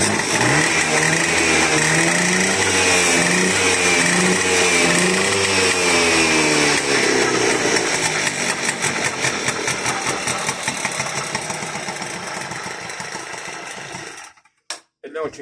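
A small two-stroke Piaggio Ciao moped engine with a variator clutch sputters to life and revs loudly for several seconds with a buzzing, rising and falling pitch, then cuts out abruptly.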